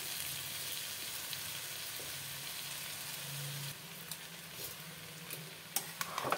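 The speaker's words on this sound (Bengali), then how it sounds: "দিয়ে দেবো কেটে রাখা পালং শাক।" Spiced vegetables, with chopped spinach added, sizzle softly in a frying pan, a steady low crackle broken near the end by a few sharp scraping clicks from stirring.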